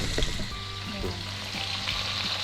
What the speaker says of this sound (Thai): ทอดแหนม